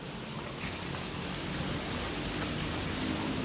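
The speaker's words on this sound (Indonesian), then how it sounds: "Ini air terjunnya teman-teman tuh." Waterfall at Goa Selarong roars as a steady, dense wash of broadband noise, continuous and fairly loud throughout with no talk over it.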